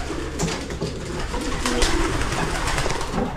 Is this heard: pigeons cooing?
yes